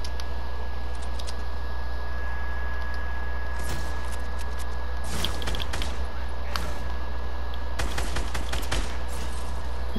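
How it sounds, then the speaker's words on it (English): Bursts of gunfire from an Uncharted 4 multiplayer match: scattered single shots and rapid volleys around the middle and end. They sit over a steady game hum with a constant tone, and no talk is heard. "stop shooting me in the back"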